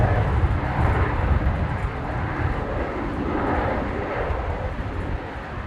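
A Qantas jet on a repositioning flight at Brisbane Airport gives a sustained engine roar with a deep low rumble that eases off gradually, heard at moderate distance without talk.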